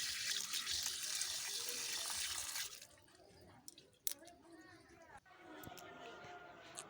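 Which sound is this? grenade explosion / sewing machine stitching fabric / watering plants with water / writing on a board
watering plants with water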